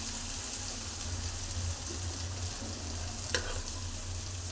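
Capsicum rice masala fries in oil in a pan with a continuous soft sizzle, steady and even throughout, with one brief scrape or stir near the end.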